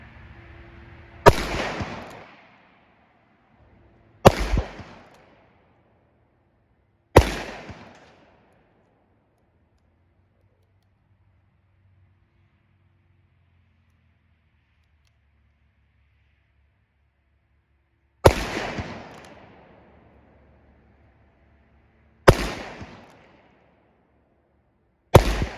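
A Governor revolver loaded with .410 buck-and-ball and birdshot rounds fires six loud, sharp shots outdoors, three spaced a few seconds apart, then a long quiet gap before three more.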